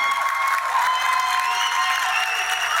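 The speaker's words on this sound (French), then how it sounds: "Applaudissements pour Aurélie, s'il vous plaît." A studio audience at a televised singing contest applauds and cheers, a continuous close wash of clapping with some whoops throughout the short burst.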